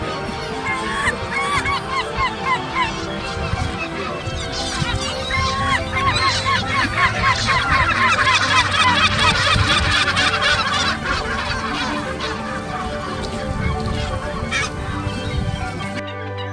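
Dense, loud honking and squawking from many seabirds near a penguin colony at Punta Arenas on the Straits of Magellan, a steady overlapping chorus lasting throughout.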